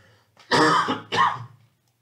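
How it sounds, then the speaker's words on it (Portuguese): Two quick, rough throat-clearing coughs close to the mic, a short pause between them, in an otherwise quiet room. "Desculpe a tosse."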